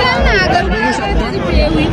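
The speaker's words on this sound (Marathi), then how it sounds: "एवढी गर्दी आहे ना भाई" Large crowd chattering in a packed, busy place, a dense continuous babble of many voices close around, steady and loud throughout.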